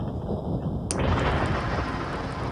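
Explosion in the video game Melon Playground, a sudden loud burst about a second in, followed by a rumbling noisy tail that stays strong to the end.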